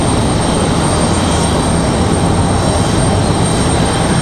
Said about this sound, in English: that was PSA 5404 headed to Reagan